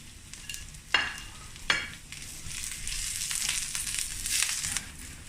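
Curry leaves and a pinch of asafoetida spluttering and crackling in hot oil, with two sharp bursts early on, then a steady loud sizzle that swells toward the end, no talking.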